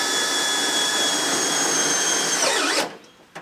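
A power tool drives Tek screws into a truck's metal tray, a loud steady high-pitched whine that holds, then drops in pitch and stops abruptly, followed by a short faint clunk.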